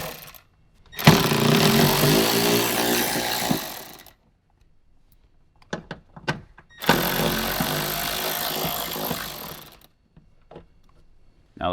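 A power driver whirs loudly in two sustained bursts, removing the corner bolts of a 6x9 speaker in a Toyota 4Runner, with short clicks and rattles of handling in the quiet gap between runs.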